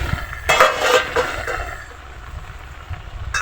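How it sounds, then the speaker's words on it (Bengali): A metal pot lid lifts off with a few clinks and scrapes over a simmering kalbaush fish curry cooked with ridge gourd, stems and pointed gourd, followed by a soft bubbling sizzle. "এখন ঢাকনা খোলা হচ্ছে"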